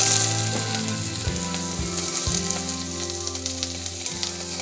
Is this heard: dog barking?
no